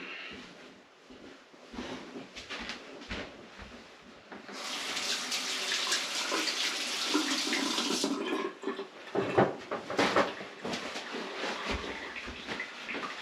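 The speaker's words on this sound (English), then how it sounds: "we'll wash our hands here a little bit" Hands are washed under a running kitchen tap while a stuffed meatloaf is being made. A steady, fairly loud gush of water runs for a few seconds mid-clip, with clinks and handling sounds before and after, and no talking.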